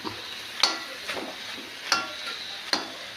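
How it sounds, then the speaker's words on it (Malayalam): Kappa biryani, tapioca mixed with meat curry gravy, being stirred in a pan makes a soft frying sizzle punctuated by three or four sharp scraping clicks of the spoon at a slow, uneven rhythm. "നന്നായിട്ടൊന്ന് ഇളക്കി മിക്സ് ചെയ്തെടുക്കട്ടെ"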